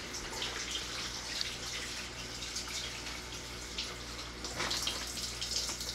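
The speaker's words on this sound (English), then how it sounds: "Rinse well, pat dry, and then we're going to start trimming it down." Tap water runs steadily over a wagyu brisket being rinsed, a constant broadband hiss and splatter with slight surges, close and alone.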